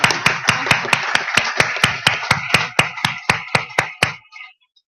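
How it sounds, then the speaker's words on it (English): Rhythmic, evenly spaced claps ring out close and loud after a panel session at an academy event, about sixteen sharp beats at a steady pace before stopping abruptly. "I ask you for a second big applause for them."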